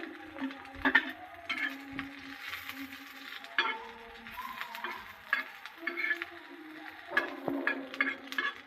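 Garlic and onion fry in a pan for a home-style chilapi fish curry, a soft sizzle under intermittent clinks and stirring knocks of a utensil against the pot.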